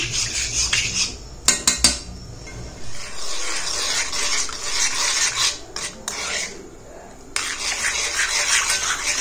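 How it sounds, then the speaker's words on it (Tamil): A spoon scrapes and clatters against a metal pan on a stove as a homemade hair dye mixture is stirred, giving repeated rasping strokes that stop for short moments. "கட்டிலாம் இல்லாமல் நல்லா வந்து கலக்கி விடுங்க"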